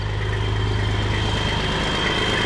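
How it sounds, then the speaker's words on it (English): A heavy Detroit diesel truck engine idles steadily and loudly up close while building air pressure, a constant low rumble with a droning hum and no voices. "I hear my truck a purring. Good old Detroit engine."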